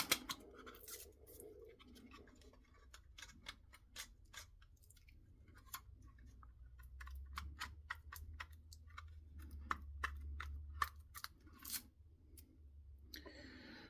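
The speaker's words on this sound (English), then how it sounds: "Plastic in tiny little bits, so it's extremely hard to get off in one piece." Thin protective plastic film is picked and peeled off a new Logitech M220 wireless mouse in small bits, giving faint, close crinkles, clicks and scratchy ticks scattered irregularly through a quiet room.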